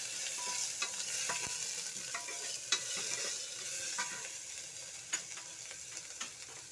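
Grated ginger added to panch phoron tempering spices sizzling in oil for motor dal, a soft continuous fry hiss with light scattered stirring clicks and taps of a spoon against the pan, close but fairly quiet.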